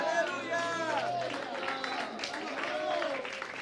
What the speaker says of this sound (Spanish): Dale un aplauso al Rey del cielo en esta hora